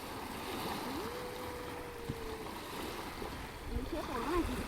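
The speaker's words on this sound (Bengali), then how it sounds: "এখন ঢেউ হচ্ছে দেখো আর নদীর জলটা এত সুন্দর পরিষ্কার দেখো খুব সুন্দর ঢেউ হচ্ছে" River waves wash continuously at a steady, moderate level, with people talking faintly over the water.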